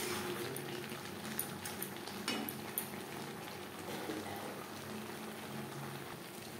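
Tilapia fish cooks with taro stolons in a pot, giving a low, steady bubbling simmer with a few faint clinks, quiet and without talk.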